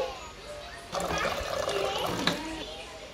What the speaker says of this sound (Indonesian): Ini tadi kita tuang air dingin. Sekarang ini air hangat.